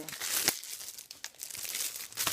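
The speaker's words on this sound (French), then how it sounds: "je vais vous déballer ces coffrets pour vous montrer à quoi ressemble l'intérieur" Plastic wrap crinkles and tears as it is pulled off a DVD box set of The Love Boat season 4, a close, continuous rustling with a few sharper rips.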